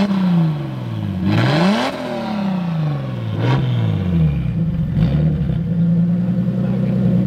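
Toyota Tacoma pickup, originally a 3.4 V6, swapped to a 2JZ inline-six, revving up and dropping back in repeated sweeps from a steady idle, close and loud throughout.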